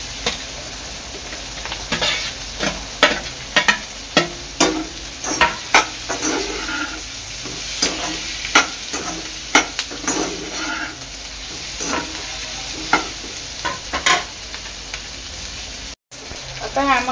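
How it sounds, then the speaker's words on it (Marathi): Onions frying for soybean chilli, a loud sizzle with frequent sharp scrapes and clatters of the stirring spoon against the pan, close by, with no speech over it. "यामध्ये मी टाकणार आहे कांदा"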